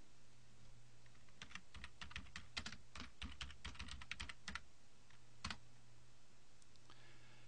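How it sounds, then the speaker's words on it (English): A short run of crisp, close keystrokes on a computer keyboard as a search term is typed, a quick burst of clicks then a pause and a final tap, over a faint steady hum. "go to Google and type in your search term"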